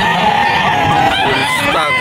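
A one-year-old Papay Gray bullstag rooster crows loudly and close, its strained call cutting through a dense background of other chickens clucking on a farm.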